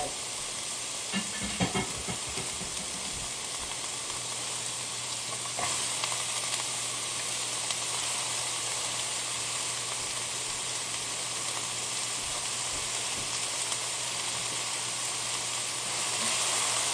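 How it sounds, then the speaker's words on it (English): Vegetables sizzle steadily in a hot pan, a continuous close crackling hiss with a brief stirring clatter near the start. "You hear that sizzle? That's always good."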